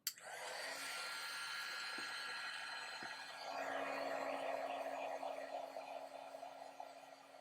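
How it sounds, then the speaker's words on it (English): A heat gun blows steadily to dry ink on vellum, a soft, even airy hiss that grows slightly louder partway through, with faint clicks early on and no talking. "And you want to keep the heat gun moving so that it cuts down on the warping."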